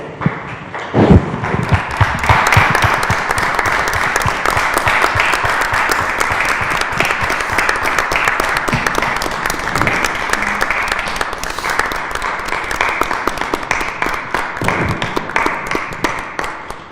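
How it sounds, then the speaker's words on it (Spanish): Sustained, dense applause from a crowd for health workers at six o'clock during a press conference at the Palacio Nacional. Loud, steady clapping that fills the whole stretch with no break. "Damos este aplauso para los trabajadores de la salud"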